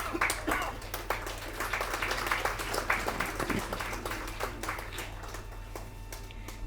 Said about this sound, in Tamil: ஸோ அவங்களுக்கு ஒரு கரகோஷம்.